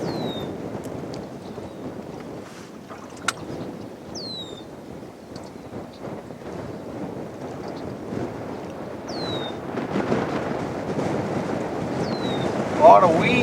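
A small outboard motor drones steadily on a weedy river in the Maine backwoods, running under wind and water noise, with scattered bird chirps over it.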